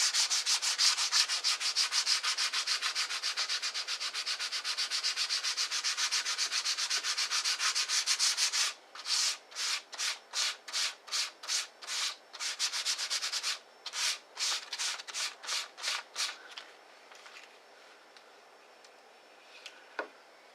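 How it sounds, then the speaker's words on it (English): Sandpaper lightly rubbed over a wooden guitar neck support caul, first a steady continuous scratchy rasp, then a run of short rhythmic back-and-forth strokes before fading to quiet. "take some sandpaper and just very, very lightly sand at this."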